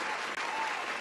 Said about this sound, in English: Baba Kaba, let me just give that a round of applause